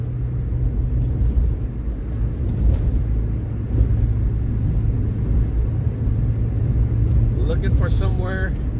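Car driving along city streets in San Leandro, a continuous loud engine and road rumble from inside the vehicle, with a brief burst of higher chirping near the end.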